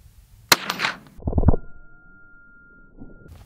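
A .22 Long Rifle shot fired outdoors at an aluminum target gives one sharp crack with a brief echo, then a duller thud-like burst and a faint lingering ring.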